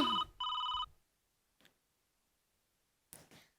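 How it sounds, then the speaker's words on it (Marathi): A telephone rings with two bright electronic bursts in quick succession, clear and close, followed by silence, then a short faint clatter and later a couple of brief handling noises. "अरे नलू मावशीचा फोन आहे"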